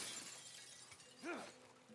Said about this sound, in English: Smash all the windows.